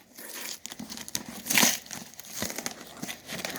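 Plastic wrap is peeled by hand off an iPhone 6s box, giving close crinkling and a brief louder tearing rustle.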